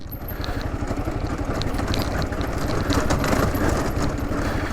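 A KLR650 motorcycle rolls downhill off-road over rocks. A low engine putter sits under a continuous rough rumble and scattered rattles from the rocky ground.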